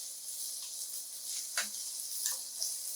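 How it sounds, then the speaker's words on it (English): Turmeric rice stir-fries in a pan for a vegan dish, producing a soft, steady sizzle with a few light scraping ticks from stirring, quiet and close. "Let it saute for about 2 minutes."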